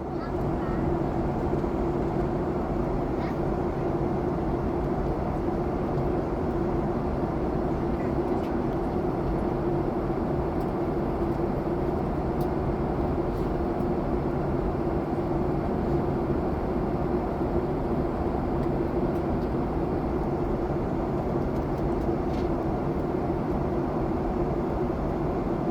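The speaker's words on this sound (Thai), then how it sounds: "ตอนนี้เครื่องบินก็กำลังเริ่มลดระดับแล้วครับ" Steady, loud cabin drone inside a Malaysia Airlines Boeing 737-8 descending over Pahang toward Kuala Lumpur, a continuous engine and airflow roar with low hum throughout and no clear speech.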